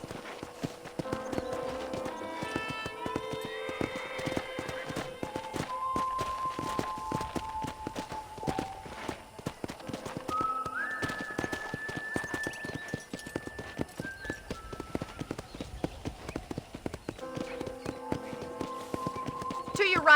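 Horse hooves clip-clopping steadily at a walk on a ranch in the video game Red Dead Redemption, rhythmic and close, with occasional snorts and game music tones over the top.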